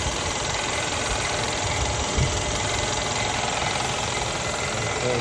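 The radiator fan of a Mercedes W222 S550 runs steadily, a loud continuous whirring drone with a rough mechanical undertone and no break through the whole stretch.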